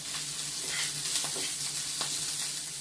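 Grease sizzles and fries steadily in a pan on high heat while salmon cakes are being made, a constant close crackling hiss with a few faint clinks, no talking.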